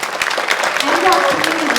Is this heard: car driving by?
no